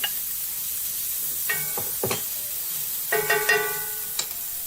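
A generous portion of onions cooking in a pan, with a soft continuous sizzle under a few sharp metallic clinks and scrapes from a utensil.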